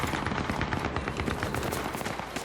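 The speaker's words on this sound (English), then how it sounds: "I had to unload my whole clip into him" A gun in Battlefield 3 empties its whole magazine in one continuous rapid burst, loud and close, the dense rattle of shots running without a break.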